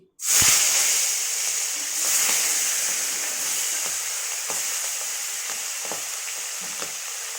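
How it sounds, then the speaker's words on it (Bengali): Hilsa fish pieces drop into hot oil with a sudden loud sizzle that settles into steady crackling and hissing, with small pops and stirring sounds throughout. "তেলটা গরম হয়ে গেছে, মাছগুলো আমি দিয়ে দিচ্ছি"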